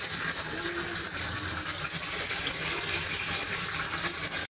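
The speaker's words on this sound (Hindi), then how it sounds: "पीने का पानी मटकी में भर रहा है और इधर टंकी में भी पानी भर रहा है।" Drinking water pouring into a clay pot and a storage tank in a village home, a loud, continuous rushing gush that holds steady throughout with no voices.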